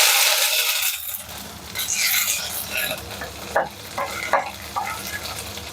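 Curry leaves hit hot oil already tempered with mustard seeds, cumin, ginger and dried red chilies, hissing loudly at first, then settling into steady frying crackle with a few spoon stirs and light clinks against the pan.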